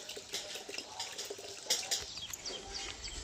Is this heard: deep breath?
no